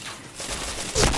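A single loud AWP sniper rifle shot cracks out in a shooter game near the end, following a short stretch of busy game noise.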